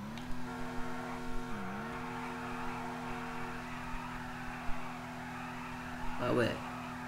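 Car drifting in GTA 5, a steady engine drone with a brief tire screech near the end, under game sound and a voice talking.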